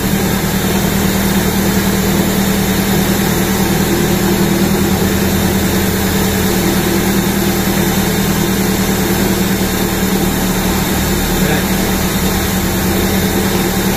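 A 2001 Toyota Altis 1.8G car engine idles nearby in a steady, unbroken low hum with a constant drone throughout, and no talk.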